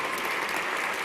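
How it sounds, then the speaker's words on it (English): Applause at the Children's Tumor Foundation 2021 national gala, a short burst of dense, even clapping from an audience. "So round of applause."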